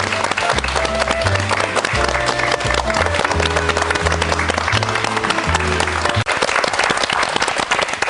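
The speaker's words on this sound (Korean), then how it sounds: "큰 박수로 환영하겠습니다" Studio audience applause welcomes three guests on a Busan KBS morning talk show, a loud continuous crowd clapping with a music sting playing underneath, then thinning out toward the end.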